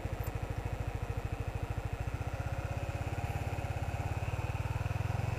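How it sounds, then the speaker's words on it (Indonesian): A 2016 Honda CBR150 motorcycle engine putters at a low, even idle, then the pulses quicken slightly as it begins to move off. "Sekarang saya akan coba jalan pakai motor ini."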